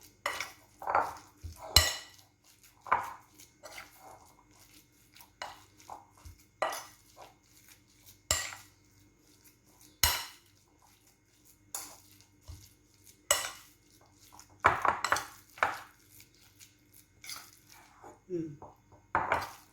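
Ground chicken patty mixture being stirred with pepper and salt in a bowl, giving irregular clinks and scrapes of utensil against dish, with bursts of clatter and short pauses between strokes.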